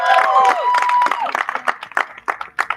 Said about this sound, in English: A round of applause to everybody.